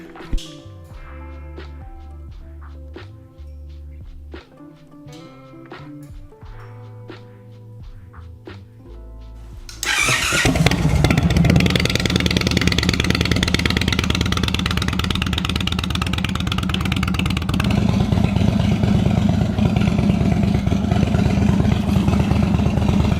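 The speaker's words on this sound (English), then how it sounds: "I'm gonna take the bike around the block and I guess test everything out in daylight" A wrecked Indian Chief motorcycle turns over briefly, catches, and settles into a loud, steady engine note, then rides off with sustained throttle, the engine roar dominating continuously.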